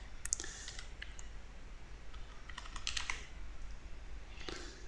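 Typing a new password on a computer keyboard, a few quiet key clicks in small bursts, close up over faint room hiss, with no talking.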